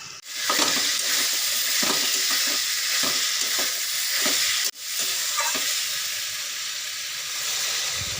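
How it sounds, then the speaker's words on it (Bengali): Paneer frying in a pan with garam masala powder and sugar, stirred steadily, a constant close sizzle and hiss broken by repeated scraping strokes of the spatula, with no talk. "গরম মশলা গুঁড়ো, স্বাদ মতন চিনি, পনির দেওয়া হলো।"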